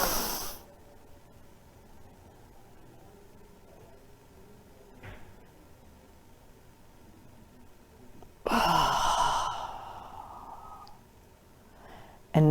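A person doing a stretching exercise takes one deep, audible breath in near the end, close and breathy against an otherwise quiet room, with a faint earlier exhale.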